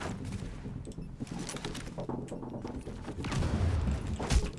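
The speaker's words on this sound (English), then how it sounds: "Let me use that flashbang." Loud rapid gunfire fills a firefight in The Division, with dense bursts of shots and heavy thumps that build toward the end, where a flashbang goes off.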